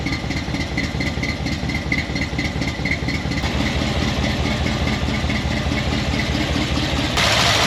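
A Chevrolet squarebody truck with dual-chamber delta flow mufflers idles close by in a steady, deep, unbroken rumble, with no talking.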